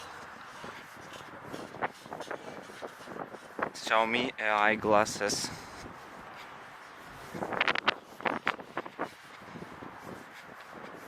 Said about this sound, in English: Also, it's windy.